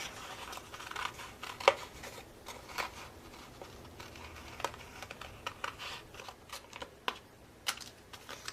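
Scissors snipping through scratch paper while cutting inward pieces for a Christmas stocking cuff, heard as a quiet, irregular string of short crisp snips and rustles, no talking.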